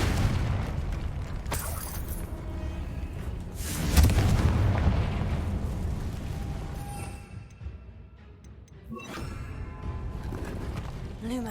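A Confringo blasting spell explodes in the Hogwarts Legacy video game, a deep booming burst around the middle amid layered game effects, rumbles and sharp crackles, with other bursts and clatter before and after.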